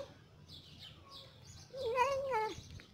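A cat meows close by in a kitchen where sardines are being fried, giving a few faint chirps first and then one drawn-out, clear meow, over a low background hum.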